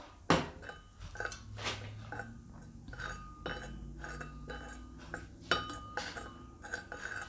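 Herbal tea ingredients being stirred in a cup, with a spoon clinking and tapping against the sides in irregular bursts of light chinks and knocks, close and fairly quiet, with no talking.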